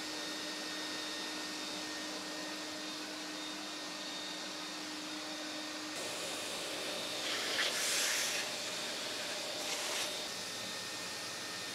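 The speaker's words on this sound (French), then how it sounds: "Et ensuite, c'est aspiration méthodique obligatoire." A workshop vacuum cleaner runs steadily during cleanup after woodworking, with a constant faint hum and hiss, a shift in pitch partway through, and brief louder sucking bursts near the end.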